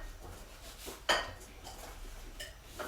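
A knife cuts through a warm peanut butter and banana snack on a plate, giving a single sharp clink of metal against dish amid faint quiet kitchen background.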